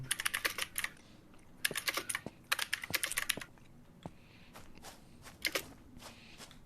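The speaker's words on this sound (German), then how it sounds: "Dafür ist deine Tastatur einfach furchtbar laut." Loud computer keyboard typing in bursts of rapid clacking keystrokes, with short pauses and scattered single key taps, close to the microphone during a gaming stream.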